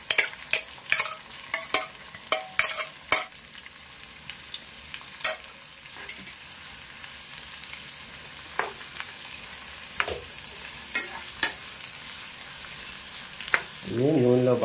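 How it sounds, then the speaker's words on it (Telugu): Onions frying in oil with a steady low sizzle, broken by clusters of close spatula clinks and scrapes against the pan, busiest at the start and sparser later. "ఇవి నూనెలో బాగా ఫ్రై అవ్వాలా."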